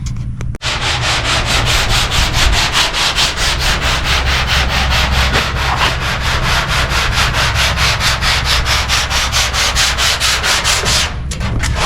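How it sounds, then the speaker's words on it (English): Steady rhythmic back-and-forth strokes of a sanding block on body filler over a 1962 Impala's bodywork, close and loud, a continuous rasping scrape repeating evenly for about ten seconds with no talk. "I'm gonna spread it and sand it."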